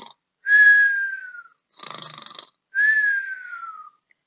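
A storybook giant snores, voiced by a narrator imitating the sound: two long whistling snore breaths with a rasping grunt between them, loud, close and isolated against silence.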